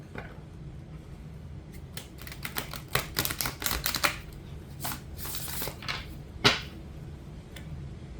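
Large tarot cards are shuffled by hand, with crisp riffling bursts and soft slapping and sliding, close up and without speech.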